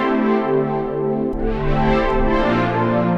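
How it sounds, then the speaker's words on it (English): Warm, sustained synthesizer pad chords, one smooth chord shifting into another, lush and full with no voices. "I'm going to start off this beat using this nice lush pad sound"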